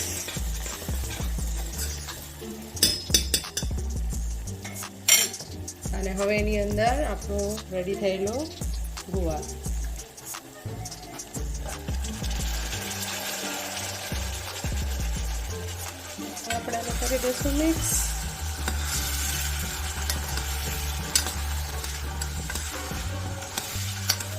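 Spices being stirred into guvar (cluster bean) curry in a pan: steady sizzling with scraping and clinking spoon strokes throughout, while someone talks over it.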